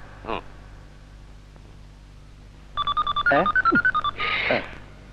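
A telephone is dialed in a Bangla film scene, producing a quick, regular run of bright keypad tones that stands out clearly over a quiet background, with brief voice fragments nearby.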